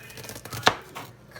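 A single sharp knife chop through an onion on a cutting board, one crisp close cut standing out midway against quiet kitchen background.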